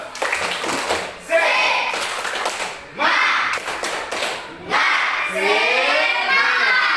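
A class of students claps together in a quick rhythmic pattern, with shouting voices and cheering mixed in between bursts of claps.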